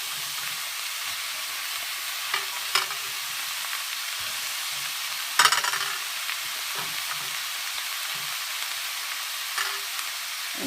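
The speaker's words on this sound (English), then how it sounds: "So now I'm going to go ahead and start adding the string beans." String beans tossed into ground beef sautéing with tomato, a steady close sizzle under intermittent scraping and stirring clatter from a utensil in the pan, no speech.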